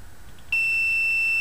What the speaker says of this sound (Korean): 부저 소리가 동시에 들렸죠, 그죠?